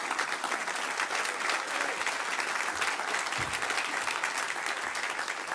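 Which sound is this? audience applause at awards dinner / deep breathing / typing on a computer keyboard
audience applause at awards dinner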